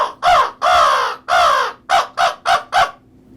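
A man imitates a crow, rasping out a series of caws: three long drawn calls followed by four shorter, evenly spaced ones, loud and close with no other sound.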